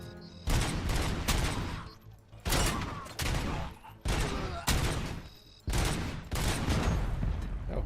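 Automatic weapon fire in a RoboCop video game comes in several loud, close bursts, each a rapid sustained volley lasting about a second, separated by short pauses.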